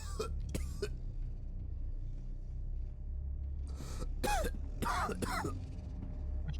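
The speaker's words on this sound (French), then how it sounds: "Je tousse." Coughs and throat clearing from a player character in an SCP horror video game, several short rough bursts in two clusters over a steady low ambient drone.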